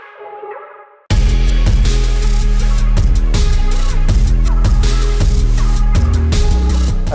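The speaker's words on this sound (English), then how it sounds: "first I started with this accent from the same Vegan kit" An accent drum sample from a Vegan kit in a futuristic trap beat made in FL Studio: a brief muffled intro snaps into a loud, dense loop of sharp repeated hits over deep bass, steady and without voices.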